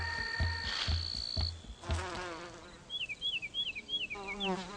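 Solitary bees buzz while foraging for nectar and pollen on garden flowers, close wingbeat hums that rise and fall in pitch, with a run of short, wavering buzzes as they move from bloom to bloom.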